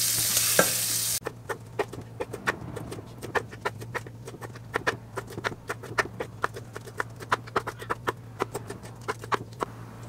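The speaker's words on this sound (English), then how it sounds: "now you want to toss in your shrimp and just let it cook until they turn pink" Shrimp cooking in a pan for Cajun stuffed portabella mushrooms, a constant faint sizzle under a steady run of sharp clicks and taps from a utensil, with a low hum throughout and no talk.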